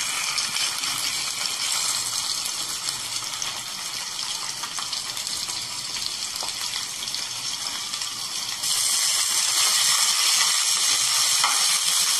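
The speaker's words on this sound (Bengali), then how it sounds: "ব্রেস্ট পিসটা, এটাকে আমি আরেকবার ভেজে নিচ্ছি" A breast piece of chicken for chicken dolma is re-fried in a pan, giving a dense, steady sizzle that grows louder and brighter for the last few seconds, with no talk.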